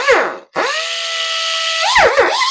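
A cheap Temu cutter and grinder tool spins up with a sharp whine, drops out for a split second, then holds a loud, steady high-pitched drone before dipping and rising in pitch at the end.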